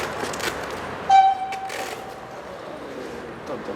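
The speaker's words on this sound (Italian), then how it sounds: "Treno che arriva." Train arriving at a station in Imperia Porto Maurizio, with one sharp horn toot near the middle and a low rumble around it, while people talk in the crowd.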